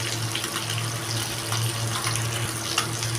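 Water runs in a steady, continuous stream over white and black mustard seeds and poppy seeds while preparing a Bengali rui fish curry in mustard sauce. The pouring stays even and close, with no talking.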